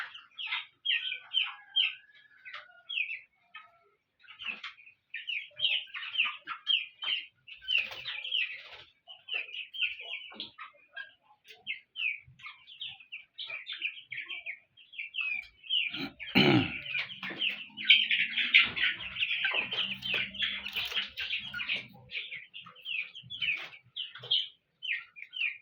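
A crowded house of three-week-old poultry chickens, with constant high peeping and chirping and rough snorting and sneezing sounds mixed in; a loud thump and rustle comes midway, and no one speaks.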